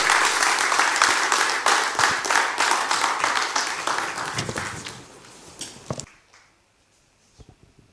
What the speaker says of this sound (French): merci de dérouler le tapis rouge à travers vos acclamations à Monsieur Dieudonné Dakisaga